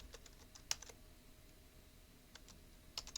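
Typing on a computer keyboard: sparse clusters of light, crisp key clicks in two short bursts separated by a brief pause, close and quiet against a faint background hum.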